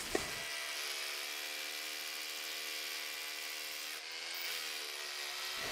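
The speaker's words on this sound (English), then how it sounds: "I'm drilling another 4 inch deep hole." A power drill whines steadily for several seconds while drilling a 4-inch-deep hole when installing metal driveway gates, a continuous buzzing drone with a brief dip partway through.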